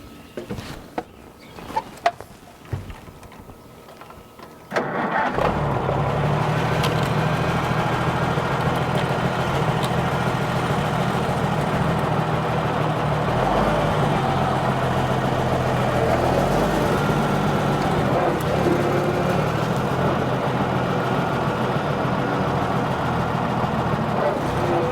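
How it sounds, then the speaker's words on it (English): A 1957 tractor with side curtains on its engine starts up after a few seconds of quiet knocks, then runs steadily with a loud, low, even rumble that continues without a break. "I just love to get on that tractor and drive around"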